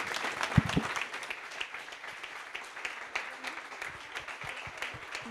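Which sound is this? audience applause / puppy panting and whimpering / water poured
audience applause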